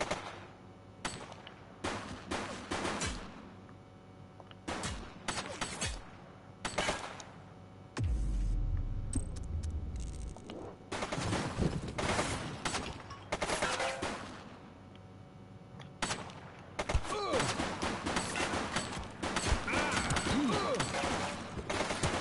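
Gunfire in the police video game The Precinct: scattered, sharp shots and short volleys crack out at irregular intervals, with a heavier rumbling burst midway, over a steady bed of game noise.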